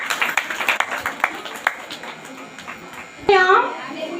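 A church congregation claps in quick, rhythmic bursts, moderately near, while a voice speaks over and after the clapping.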